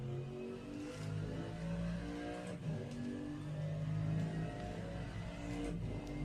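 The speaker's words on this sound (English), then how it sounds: "I was standing at this corner with the Porsche GTs, and they sound amazing" Porsche Carrera Cup race cars roar steadily past a trackside corner at a German circuit, a dense sustained engine drone with rising revs throughout, fairly loud with no speech.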